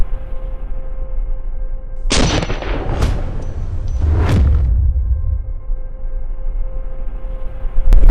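A 5.56 rifle firing Black Hills Mark 262 rounds: three loud, sharp reports about a second apart with a booming tail, then a fourth shot right at the end.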